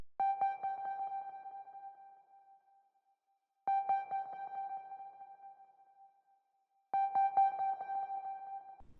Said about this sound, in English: Then I added this like sine lead, but it's more of like a pluck